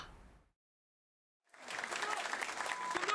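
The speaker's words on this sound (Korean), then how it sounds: "군 장병들이 박수와 환호로 이 대통령을 맞이합니다." Soldiers at a frontline army infantry division welcome the president with applause and cheering, a dense crowd wash that swells in after a brief silence and holds steady and fairly close.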